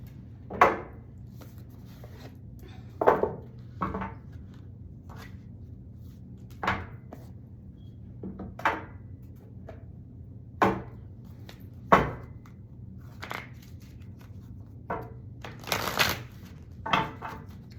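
An oracle card deck is shuffled by hand, with faint, irregular soft slaps and taps scattered over a quiet steady hum.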